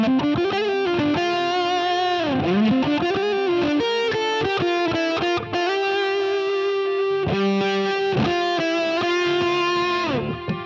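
Electric guitar played through a Sonicake Fazy Cream fuzz pedal, a Big Muff-style clone with the volume knob nearly full up: thick, sustained distorted notes and slides, loud and close, with no talking.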